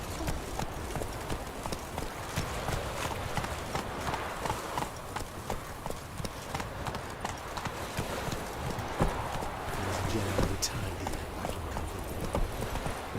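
Horse hooves clip-clop in a steady galloping rhythm in The Witcher 3 video game, loud and continuous throughout over wind and ambient noise, with faint game sounds layered in.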